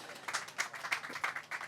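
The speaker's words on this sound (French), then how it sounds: "On peut l'applaudir, s'il vous plaît." Faint, sparse audience applause at a local investment awards ceremony in Bourges, with a handful of scattered hand claps arriving at a quick, uneven pace in a large room.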